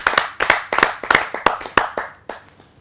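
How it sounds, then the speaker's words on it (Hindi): Sparse, distinct handclaps at a Hindi poetry gathering, a small cluster of people clapping in uneven bursts that thin out and fade away within a few seconds. "आप सबकी जोरदार तालियों से।"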